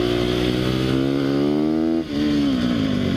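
A Sherco 300 SEF-R dirt bike engine revs loud and close with a steady rising whine, then dips briefly as the clutch slips and picks back up.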